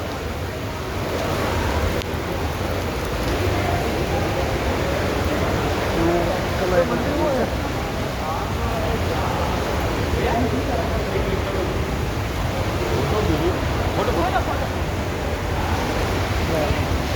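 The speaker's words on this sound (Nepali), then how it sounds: "सेती नदी भनेको यो है" The Seti River in Pokhara, near Gupteshwar Mahadev, gives a steady broadband rush of flowing water that holds at an even level throughout, with faint voices mixed in.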